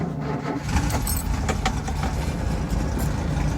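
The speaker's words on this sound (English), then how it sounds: "So we'll show a cold start here." A 1970 VW Baja Bug engine cold-starts and then idles with a low, steady air-cooled rumble close by, a metallic jingle of keys over it at the start, without talk.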